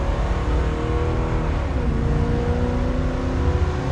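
A 1971 Chevrolet Nova SS driving down the road, its engine a loud, steady close drone with a slight rise in pitch, heard alone without voices.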